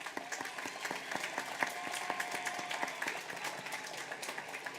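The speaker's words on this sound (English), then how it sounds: "Let's give our honor students a round of applause." Graduation audience at W.F. West in 2023 applauding honor students, a moderately sized crowd whose individual claps stand out as distinct sharp hits within a steady, continuous ovation.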